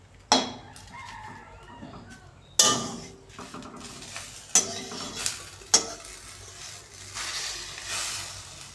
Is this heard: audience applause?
no